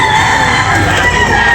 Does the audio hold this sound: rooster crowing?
yes